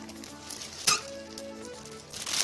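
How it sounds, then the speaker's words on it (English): Ground beef, pork and veal hitting a hot pot, a soft sizzle with a sharp clank of the pot or utensil partway through, fairly quiet and steady with faint background hum. "So let's get all this meat into our pot."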